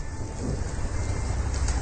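Light drizzle from a radio drama sound effect hisses as a steady, even wash of soft rain with no voices, continuous and moderately quiet for a couple of seconds.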